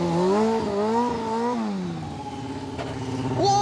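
A motorcycle engine revs hard and wavers in pitch during a vertical stunt where the rider scrapes the bike's rear against the ground. The revving is loud and close and continues throughout, with no talking.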